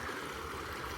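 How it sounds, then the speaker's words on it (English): Running water from a stream at the Mission Del Lago trailhead makes a steady, soft, continuous rush, faint and heard only briefly. "The sound of running water like that, it's just so amazing."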